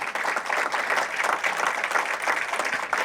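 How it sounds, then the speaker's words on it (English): Sustained applause from an audience at a not-for-profit summit awards presentation, dense steady clapping filling the room for a few seconds without a break. "Let's give Michele a round of applause for all the work she does."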